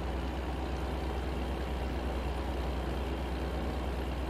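Steady, low truck engine drone in American Truck Simulator, a constant faint rumble holding evenly throughout with no voices.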